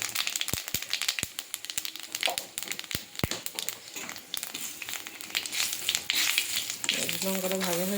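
Dried red chillies and five-spice seeds fry in hot oil in a wok, crackling and popping with several sharp snaps early on over a continuous sizzle, close and fairly loud.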